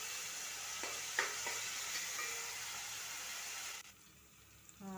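Onions sizzle in a hot pan for egg biryani, a soft steady frying hiss with a few light scraping stirs, quiet and close, cutting off sharply near the end.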